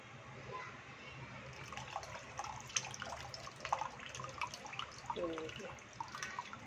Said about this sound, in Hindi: ये देखिए तो हमने छन्नी में छानना है, अच्छे से इसको हमने निचोड़ना है।